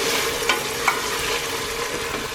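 Tomato sauce is stirred into sautéed rice in a hot pan, a steady sizzle with a couple of sharp scraping clicks from the spoon, close and clear with no talking.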